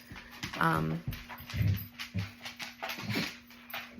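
Pet long dogs whimper and yip in a few high, breathy bursts near the start, then fade into snuffling under a person talking close by over a steady low hum.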